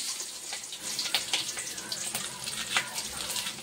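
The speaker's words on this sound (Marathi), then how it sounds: "जिरे, राई आणि कांदा घालून घेऊया." Curry leaves, bay leaf, cumin and mustard seeds sizzle in hot oil in a kadhai, a close, steady hissing crackle with scattered sharper pops.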